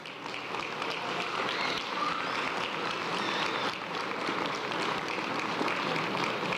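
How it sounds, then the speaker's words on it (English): A school district board meeting audience applauds honorees, middle and high school teachers, with a dense, steady wash of clapping from many hands that holds evenly throughout. "Let's give them a big round of applause."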